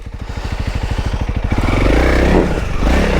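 A Honda CRF 300L dual sport motorcycle engine idles close by with a steady, rapid single-cylinder thump, then revs up into a louder, rougher roar.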